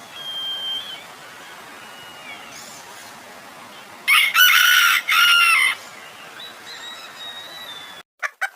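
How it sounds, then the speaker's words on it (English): A farmyard rooster crows loudly and close in one drawn-out call around the middle, with softer bird chirps earlier and a few sharp clicks at the end. "This is what a rooster looks like."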